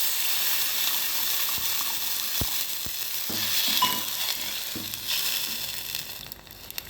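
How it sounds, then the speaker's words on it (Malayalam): Water poured into a hot pan of curry leaves, bursting into a loud, hissing sizzle with a few sharp clicks and pops, close and continuous without speech. "അപ്പോൾ അടുത്തതായിട്ട് നമ്മൾ ഇതിലേക്ക് കുറച്ച് വെള്ളം ഒഴിച്ച് കൊടുക്കുക"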